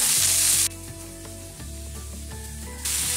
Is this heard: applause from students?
no